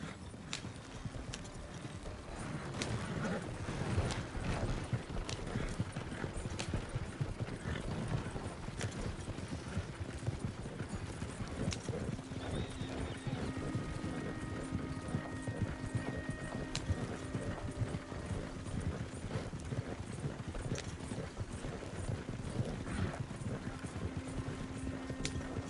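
Horse hooves clip-clop in a steady rhythmic gallop through Red Dead Redemption 2, continuous and fairly close, with a faint whinny and game ambience underneath.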